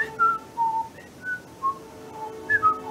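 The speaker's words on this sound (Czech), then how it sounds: "To už připomíná mistrála to pískání." A run of short, clear whistled notes, sliding and hopping in pitch with brief gaps between them, close and fairly soft against a quiet background.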